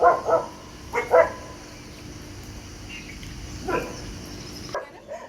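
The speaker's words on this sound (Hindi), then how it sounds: "एक कुत्तों ने भौंकना शुरू कर दिया यहाँ पे।" A dog barks in a forest at dawn, a couple of short, sharp double barks early on and a fainter one later, carrying over a quiet, hissing woodland background, somewhat distant and not loud.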